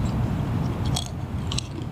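Dry crunchy chips being bitten and chewed close up, a steady grinding crunch with a couple of sharper cracks, no talking.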